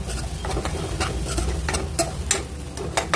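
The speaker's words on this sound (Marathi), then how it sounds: "आणि हे आता चांगलं आपण मिक्स करूया" Spoon stirring black-eyed pea (chavali) masala with spices in a pan, close and continuous scraping strokes with a few sharper clinks, over a low sizzle of the cooking mixture.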